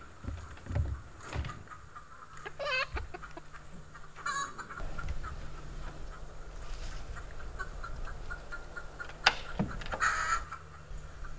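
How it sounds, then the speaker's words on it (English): Chickens cluck intermittently at close range amid a busy outdoor background, with a few sharper calls standing out. "Chickens."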